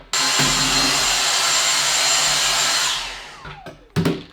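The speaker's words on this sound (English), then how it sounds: "Maybe I should vacuum that out." A loud, steady vacuum cleaner whir runs for a few seconds, then winds down, followed by a couple of sharp clunks.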